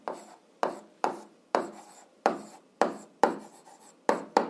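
Pen strokes scratching across paper while working an algebra exercise, about a dozen short rasping bursts in an uneven rhythm, close and fairly quiet with brief pauses between them and no talking.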